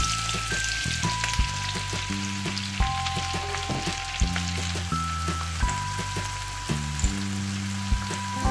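Onions fry in hot oil in a pan for a Kerala-style beef dum biryani, giving a steady, close sizzle with small crackles and light stirring and no voices.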